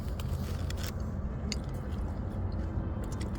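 Arby's crinkle cut fries are bitten and chewed close up, with soft crunching and wet chewing under a steady low rumble.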